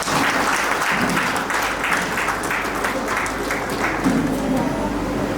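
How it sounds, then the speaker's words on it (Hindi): Loud, dense applause from a large crowd welcoming guests at a museum inauguration ceremony, holding at a steady roar throughout without a break. "उनके लिए जोरदार ताली से स्वागत करते हैं।"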